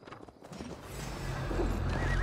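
Horses gallop and neigh during a siege battle in Assassin's Creed Valhalla, hooves pounding in a quick, close rhythm that swells into a dense, loud rumble of riders, with a whinny breaking through.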